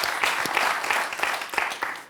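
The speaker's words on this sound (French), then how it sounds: "vous pouvez l'applaudir parce qu'il n'y a pas de point" Studio audience on a French TV quiz show claps for a contestant, a short burst of steady applause lasting a couple of seconds before fading at the end.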